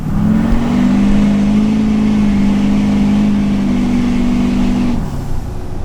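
An LBZ Duramax diesel truck accelerates hard with a loud, sustained droning roar that holds steady for about five seconds and then drops off.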